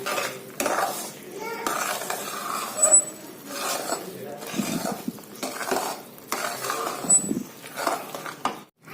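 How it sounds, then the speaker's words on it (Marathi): A spoon stirs thickening coconut barfi filling in a pan, making rhythmic scraping strokes about every second and a half, close and clear, with a voice talking faintly under the stirring. "आता हे आपण सलग हलवायचं आहे"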